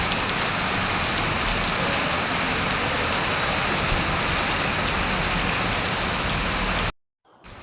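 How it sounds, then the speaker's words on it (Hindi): Heavy rain pours down in a dense, loud, steady roar, then cuts off abruptly near the end. "देखो इतना बारिश"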